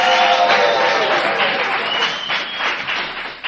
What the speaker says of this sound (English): let's pretend an actor just stole the show with an exit line and you applaud them for their performance.